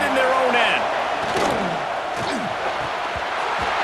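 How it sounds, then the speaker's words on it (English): Stadium crowd roar from a college football video game, a steady dense wash of cheering with a commentator talking over it throughout. "The roar of the crowd trying to fuel this defense to keep them pinned in their own end."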